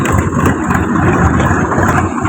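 A loud, continuous tractor engine rumbling close by at a bridge, about to drive down off it, its low chugging idle steady throughout.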